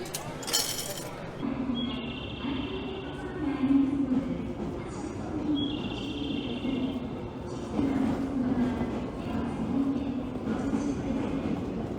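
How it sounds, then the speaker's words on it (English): A busy train station concourse in Kyoto: steady crowd murmur and rolling rumble with occasional clinks and a couple of short electronic beeps, continuous and fairly loud. "This is what it's like to walk through a busy train station with a bike bag."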